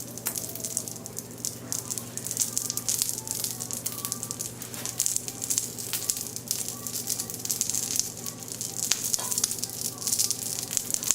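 Bacon grease sizzling on a hot cast iron griddle, a steady dense crackling hiss with scattered sharp pops, close and continuous throughout.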